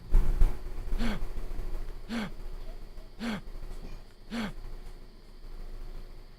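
A character's gasping sound cue in the Asagao Academy video game repeats four times at about one-second intervals, each a short, clear, identical breathy gasp over quiet background.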